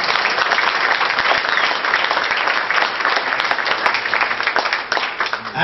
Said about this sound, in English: I'm hearing a lot of applause.